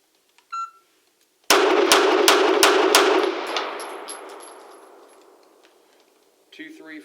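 A Beretta APX pistol fires a rapid string of five loud sharp shots on a range, each crack ringing out and decaying slowly afterward, with a faint beep before and a voice at the end.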